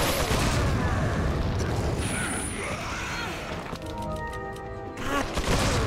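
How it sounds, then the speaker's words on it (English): A grenade blast in the Resident Evil 4 video game, a loud broadband crash amid dense clattering game noise, followed by a sharper burst near the end. "I'm gonna go on ahead and grenade"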